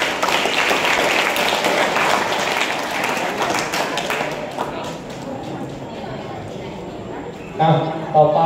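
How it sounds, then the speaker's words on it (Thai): Students in a school ethics and morals training session clapping for a classmate, a sustained burst of group applause that fades out gradually, with voices audible over it toward the end. "ปรบมือให้เพื่อนหน่อย"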